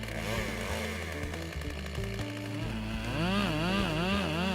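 A chainsaw engine runs loudly and continuously, its pitch rising and falling as the throttle is revved, growing stronger toward the end.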